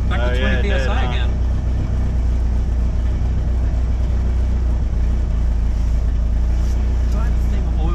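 Turbocharged Hyundai Elantra engine running hard on a dyno, a loud steady low drone that holds for the whole stretch, with someone briefly talking over it near the start.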